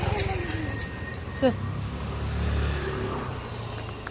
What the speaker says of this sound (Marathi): गाड्या येतात साईडनं